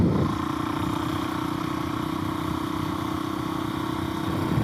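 A Suzuki DRZ400S four-stroke dirt bike riding through a hayfield and vineyard in fall, its engine holding a steady, loud drone close by without a break.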